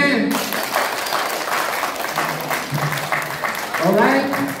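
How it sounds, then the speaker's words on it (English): Outdoor July 4th event audience in Union City claps their hands, a moderate ripple of applause under a loud voice talking throughout, with the clapping rising toward the end. "Everybody clap your hands"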